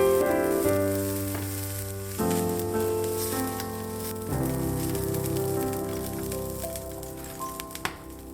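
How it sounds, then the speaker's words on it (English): Salmon fries skin side down in a hot pan, giving a loud, steady close sizzle that crackles and spits throughout, with a few sharper pops near the end. "Cook skin side down for 3 minutes"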